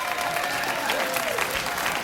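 A late-night talk show studio audience claps in a dense, continuous burst that stays loud and even throughout the short stretch.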